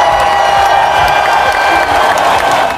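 Applause at a school celebration assembly for Anning class, a dense, steady wash of many hands clapping throughout, loud and close, with occasional whoops and crowd noise mixed in.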